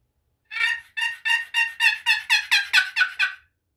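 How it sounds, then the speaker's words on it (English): A wild turkey hen yelps in a series of about ten quick, evenly spaced high calls, clear and close, then stops. "That's what a hen sounds like."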